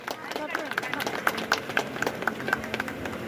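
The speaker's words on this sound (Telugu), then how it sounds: "అందరూ చప్పట్లతోటి" An audience at a public felicitation event claps together in a brisk, even rhythm, moderately close, with a voice speaking over the applause.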